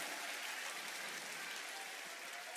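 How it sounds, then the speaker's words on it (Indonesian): A concert audience at an unplugged show claps steadily, with dense, even applause filling the whole stretch at a moderate distance. "Kita berikan tepukan gemuruh kerana sudi membuat kemunculan istimewa."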